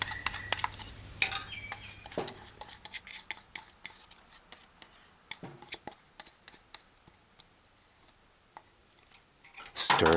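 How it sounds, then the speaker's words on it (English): Fork stirring shredded pumpkin into rice in a pan on a medium-low stove, close-up scraping and clinking of metal against the pan in an irregular run of strokes with short gaps, ending in a louder clatter. "Use a fork, stir it in."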